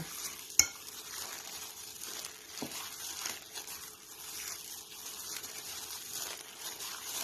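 Thai palm cake (khanom tan) batter being stirred in a bowl, a soft continuous wet swishing and scraping with one sharp utensil knock near the start, close but fairly quiet, no voices.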